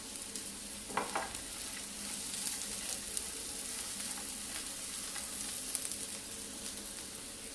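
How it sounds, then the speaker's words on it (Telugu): Deep-fried sweet corn and green chillies sizzle steadily in a pan on high flame, a continuous close frying hiss with a few sharp crackles and stirring scrapes, without speech. "హై ఫ్లేమ్లో పెట్టుకొని బాగా టాస్ చేసుకోవాలన్నమాట."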